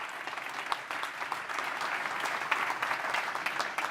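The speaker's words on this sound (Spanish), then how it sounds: "Un aplauso para él." An audience at a forum on respect in sport applauds steadily for about four seconds, with a full, even roar of many hands and no speech over it.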